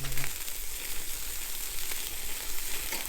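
A lamb steak sizzles on an outdoor grill, a brief, steady close frying hiss with no voices.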